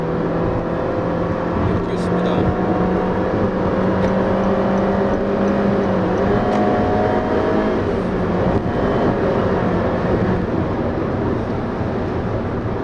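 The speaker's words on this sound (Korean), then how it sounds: "가속 페달을 깊게 밟아서 RPM이 5000을 넘기 시작하면 4500 이상서부터 좀 제법 강한 소리가 올라오죠." A 2016 Honda HR-V engine drones under hard acceleration, its steady hum climbing in pitch as revs build past 4,500 rpm, heard from inside the cabin beneath continuous talk.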